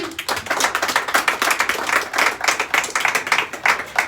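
A church congregation claps in a fast, steady rhythm that fills the room, with loud, continuous hand claps from many people at once.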